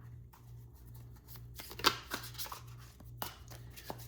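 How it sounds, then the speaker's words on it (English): Soft, papery shuffling of tarot cards in short bursts with a sharper snap partway through, fairly quiet and close against a faint low hum. "I'm just going to shuffle these up a little bit."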